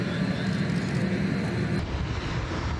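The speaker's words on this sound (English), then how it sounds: "lost in the sound coming from the powerful jet engines" Powerful jet engines of the White Knight aircraft taxiing past on the Mojave airfield, a loud, steady, dense roar filling the whole clip, drowning out any cheering, with a slight drop in the upper hiss near the end.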